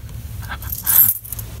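Metallic clinks and a jingle of coins handled close by, with a brighter rattle midway through.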